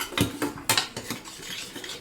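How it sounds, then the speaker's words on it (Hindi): A spoon clatters and scrapes through fried masala with tomato in a metal pan, a handful of sharp clinks and scrapes in an uneven rhythm, close and moderately loud, with no talk. "अभी मैं इसको खूब अच्छे से कर दूँगी मिक्स।"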